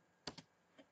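Quiet close-up computer keyboard typing during a Microsoft Word lesson: two quick key clicks in succession, then a third click a moment later in a still room.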